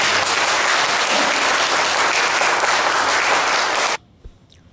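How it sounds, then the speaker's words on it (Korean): Church congregation applauding to welcome a pastor: dense, loud, sustained clapping from a large crowd that stops abruptly, leaving near silence. "우리가 환영하는 박수를 드리면서 좀 모셨으면 좋겠습니다"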